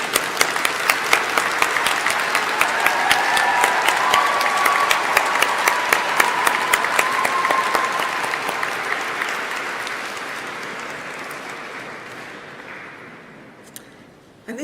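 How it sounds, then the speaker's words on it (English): A graduation audience in a cathedral at a Coventry University ceremony applauds loudly in a sustained wash of clapping with scattered cheers, the sound swelling and then slowly fading out over the reverberant hall. "Please will you give them the most enormous round of applause and cheer."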